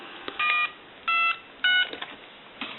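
Dial tones from a repaired Mickey Mouse 210 Trim Line telephone sound as three clear, separate beeps a fraction of a second apart, crisp and close, with faint handling clicks between them.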